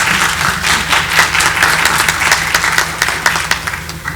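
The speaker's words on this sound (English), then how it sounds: "Let's give them one more round of applause." An audience at a women's forum gives another round of applause, steady dense clapping filling the room close and loud from start to finish.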